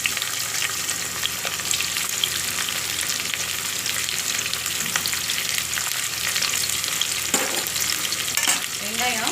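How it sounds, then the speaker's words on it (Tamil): Onions fry in hot oil with cumin, fennel, cinnamon and cloves for prawn biryani, a steady loud sizzle that runs throughout, with occasional stirring scrapes close by. "வெங்காயம் நல்லா வதங்கணும்."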